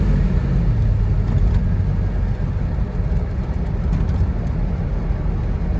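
A Corsair V8 car pulls hard uphill, its engine a steady, loud low rumble with road and wind noise running throughout and no voices.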